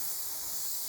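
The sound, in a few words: butter sizzling on Napoleon Lex 485 infrared sideburner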